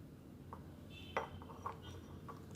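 Dove soap and other ingredients being mixed in a bowl, giving a few soft clinks and scrapes against the dish over a low room hum.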